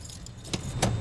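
Car keys jangle while stuck in the ignition, with a few metallic rattles and a louder shake near the end, heard up close over a low car interior rumble.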